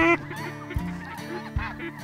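Geese and ducks calling during a waterfowl hunt: repeated loud honks in an uneven series, with one sharp honk at the start and a couple of low thumps between the calls.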